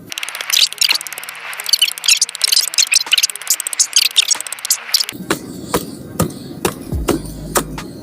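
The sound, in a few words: hammer hitting copper off a spoon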